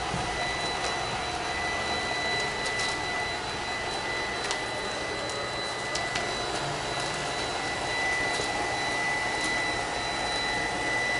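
A small Deebot D35 robotic vacuum cleaner whirs and hisses steadily at close range, a constant mechanical drone with faint high whine and occasional ticks, without speech.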